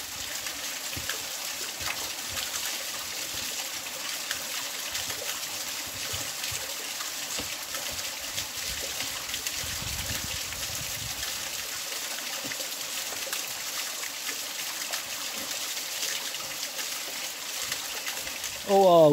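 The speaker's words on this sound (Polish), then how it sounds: "ledwie pokonałem jeden wodospad, a oto już jest następny, jeszcze większy" A waterfall in a wild forest gorge roars as a steady, fairly faint broadband rush of falling water, unbroken throughout, with a brief louder knock at the very end.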